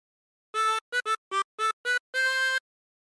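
A harmonica plays a short phrase of Yankee Doodle: six clear, clipped notes in quick succession followed by one longer held note, clean and close with silence around it.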